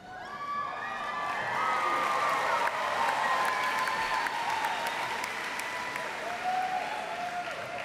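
Full applause with cheering and shouts from the crowd at a 2014 McKay High School graduation ceremony in Salem-Keizer, Oregon, broad and sustained from start to finish, with some whistles and voices rising over the clapping.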